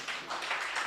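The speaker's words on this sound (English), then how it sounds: "please let's put our hands together for our presenters" Brief burst of audience applause for presenters at a health professions education symposium, dense steady clapping from a seated crowd.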